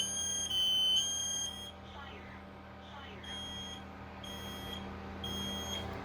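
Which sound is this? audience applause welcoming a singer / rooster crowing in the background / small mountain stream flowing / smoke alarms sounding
smoke alarms sounding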